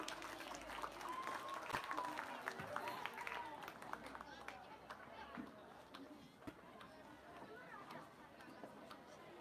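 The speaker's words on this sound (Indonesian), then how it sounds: "Tepuk tangan untuk regu B." Audience applause for team B at a quiz competition opening event, a faint, fairly dense patter of clapping mixed with crowd chatter and a brief tonal sound, fading slightly toward the end.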